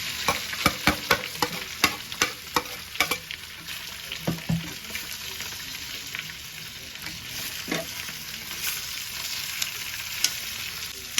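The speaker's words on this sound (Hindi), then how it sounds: "अब इसमें आलू को डालकर फ्राई कर" Spiced potatoes fry in a kadai with mustard seeds, making a soft, steady sizzle broken by repeated scraping and clicking from stirring, close and without talk.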